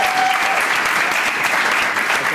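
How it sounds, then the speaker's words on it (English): Studio audience at a comedy quiz show breaking into loud, sustained applause, a dense even roar of many clapping hands lasting the whole moment without letup. "And an extra big round of applause for our special guests, Mark Aiston and Adam Keily."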